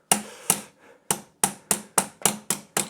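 Rubber hammers knock on the steering head of a Honda CB550 motorcycle in about eight dull, close thuds at a steady, slightly uneven rhythm, with no talking.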